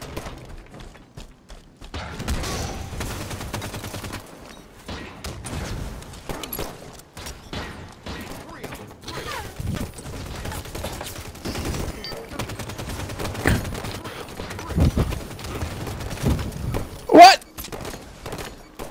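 Rapid gunfire bursts and thudding shots from a Halo 5: Guardians multiplayer match, crackling repeatedly across the clip with one sharp louder shot near the end, mixed with game sounds and occasional speech.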